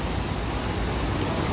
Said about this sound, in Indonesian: Hujan lebat banget ini teman-teman